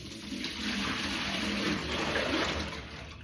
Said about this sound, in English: And just rinse this out.